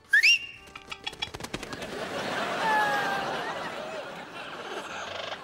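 A large bird cooing and whistling, a bright rising call up front followed by softer chattering calls and warbles over a busy, hissy background, fairly close.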